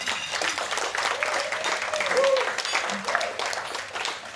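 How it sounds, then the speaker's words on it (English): A crowd applauds at an 80th birthday party, steady mid-level clapping that continues for several seconds with voices mixed in. "That deserves a round of applause."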